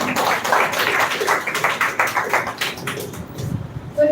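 An audience at a school grand-finale event on women's education applauds, a steady patter of many hands clapping that thins out and fades near the end.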